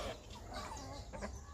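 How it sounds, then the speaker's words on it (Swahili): Chickens cluck softly around their coop in a backyard, a few faint close calls over a low steady background with no talk. "hawa ni kuku na unaona"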